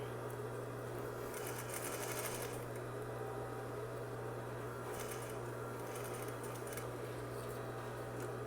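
A sewing machine runs continuously nearby, basting a temporary stitch on a messenger bag pocket, with a steady motor hum and rapid needle chatter that briefly intensifies a few times.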